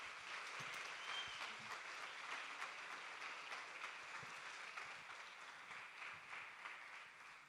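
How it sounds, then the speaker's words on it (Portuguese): A church congregation applauding, steady even clapping held at a constant level throughout, quiet and slightly distant. "Uma salva de palmas, gente,"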